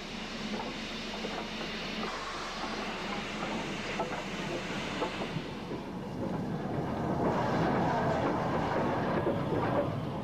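Banking locomotives reverse across to the down line on the Lickey incline, rumbling steadily at a distance amid wind noise, the low mechanical drone swelling slightly toward the end.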